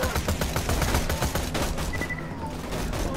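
Rapid, dense SMG fire in the video game Borderlands 2, a continuous loud rattle of shots with other battle noise mixed in, tapering slightly near the end.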